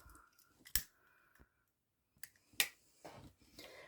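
Scissors snipping ribbon while making a pencil bow from a template, two or three sharp close clicks separated by quiet pauses.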